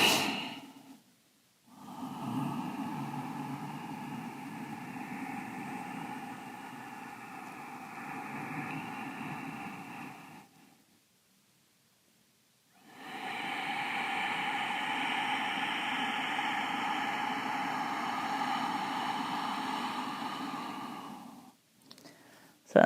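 Deep breathing from a breath work exercise: a long loud breath lasting about nine seconds, a pause, then another long sustained breath, all close and without talking.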